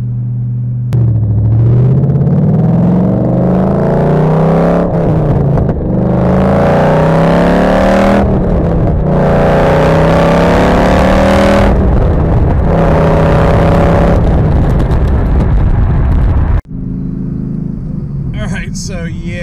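A 2012 Ford Mustang Boss 302 with an MT82 manual transmission drives hard on back roads, its engine revving up and easing off through repeated gear pulls, loud and close throughout, with a rising whine running through each pull and talk over it.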